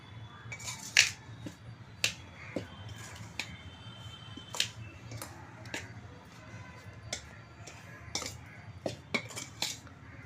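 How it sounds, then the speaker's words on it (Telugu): Turmeric, garam masala, coriander powder, chili and salt stirred in a bowl with a spoon for a prawn pickle, producing irregular metallic clinks and scrapes against the bowl, fairly close. "3 చెంచాలు పసుపు, 6 చెంచాల గరం మసాలా, ఒక పావు ధనియాల పొడి, అర్ధపావు కారం, అర్ధపావు ఉప్పు వేసి ముందు కలుపుకోవాలి."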